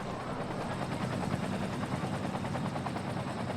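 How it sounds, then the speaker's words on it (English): Emergency helicopters in the Cities: Skylines city-building game give a steady, moderately loud rotor chop, a fast even pulsing that runs throughout without talk. "the emergency helicopters and fire services seem to be doing a semi-good job here"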